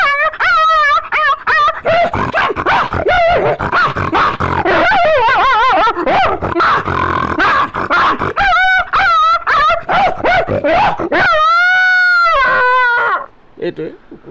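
A man mimics a dogfight with his voice alone: overlapping snarls, yips, whimpers and sharp barks tumble out in a loud, continuous, close-up frenzy, ending with a few drawn-out howling yelps.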